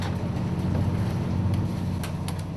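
Rough sea waves around a snow crab fishing boat at night roll together into a loud, steady, low rumble with wind noise that carries on without a break, and no voices.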